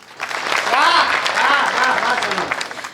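A crowd at a Hindi comedy poetry gathering claps in a steady, dense burst of applause lasting a few seconds, with a voice speaking over it.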